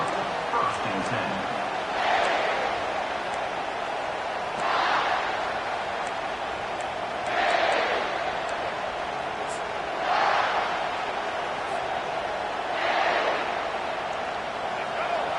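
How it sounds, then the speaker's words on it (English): A large college football stadium crowd roars steadily throughout, with several rising swells of cheering every few seconds. "This crowd bringing the energy and noise early."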